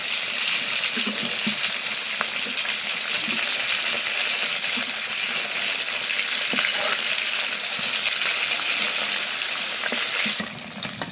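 Fish fries in hot oil in a cooking pan, giving a loud, steady, crackling sizzle that continues for about eleven seconds with no talking.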